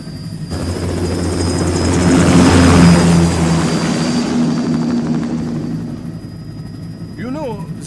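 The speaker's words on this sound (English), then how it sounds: "Commencing takeoff in semi-auto mode." An aircraft in Metal Gear Rising Revengeance takes off with a loud rotor-like roar that swells to a peak and then recedes, while a steady high whine sits above it and electronic chirps sound near the end.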